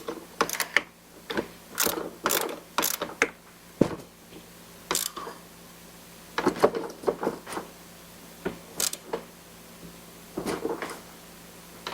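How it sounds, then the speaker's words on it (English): Ratchet tightening the positive battery terminal on a 2019 Honda Passport, quick bursts of clicking strokes separated by pauses, close and moderately quiet, with no speech over it. "Tighten it down until the cable stops wiggling back and forth."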